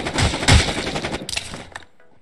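Rapid automatic gunfire in Rules of Survival rattles out in close, loud bursts, then stops abruptly and fades to near silence.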